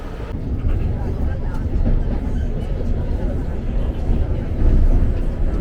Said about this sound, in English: this is a typical metro station here in Madrid